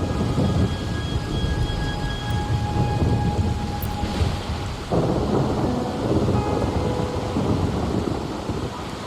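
Heavy rain and rolling thunder in the Wuthering Waves video game, a dense continuous downpour with a deep rumble swelling midway, loud and unbroken throughout.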